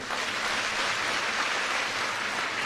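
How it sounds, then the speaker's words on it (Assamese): An audience at a government event for a women's entrepreneurship scheme claps steadily, a dense, even burst of applause throughout. "এটা ডাঙৰ হাত চাপৰি বজাই দিয়ক"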